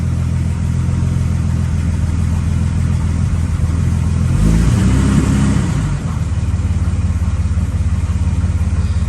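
A cold Valiant VJ Charger V8 with a Holley carburettor and no choke, not run for weeks, rumbles loudly with the throttle held, surging into a harder rev midway before settling back to a steady, lumpy drone.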